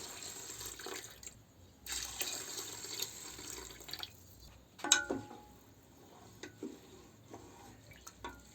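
Water runs and splashes into a pot of rice for a rice cooker, a soft, close, intermittent pouring and trickling with a few sharper clinks and drips, quiet overall with no talking.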